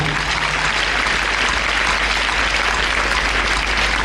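A church congregation breaks into sustained, dense applause and cheering praising the Lord, loud and steady throughout with no pauses.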